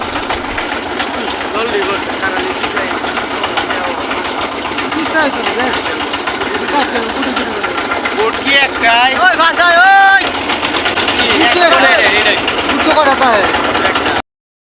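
A trawler's engine chugs steadily on a misty river, a continuous mechanical drone with a vocal line or voice rising over it in the second half.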